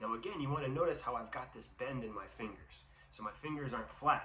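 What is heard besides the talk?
None of the usual background noises is heard.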